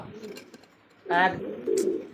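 Pigeons at a market give soft, low coos, a couple of short throaty calls close by, while people talk in the background.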